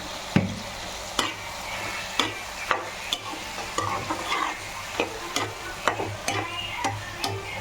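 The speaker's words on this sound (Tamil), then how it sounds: "நல்லா பரட்டி விடுங்க." Soya chunk curry fries in a pan with tomato, garlic and ginger, steady sizzling broken by about a dozen regular scrapes and clacks as a spoon stirs it.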